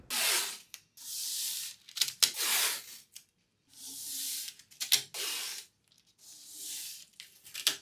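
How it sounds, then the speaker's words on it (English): Repeated rough scuffing strokes of a 150-grit sanding pad rubbing a bedside table's surfaces, in short bursts with brief pauses, close and moderately loud. "used this 150 grit sanding pad to scuff up all the surfaces"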